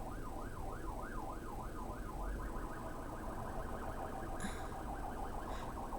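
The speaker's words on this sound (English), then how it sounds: "I feel like ambulances here just kind of do that on purpose sometimes" An ambulance siren wails outside in a steady rising and falling sweep, clear but somewhat distant, over a constant low rumble of street traffic, with a brief brighter tone cutting in near the end.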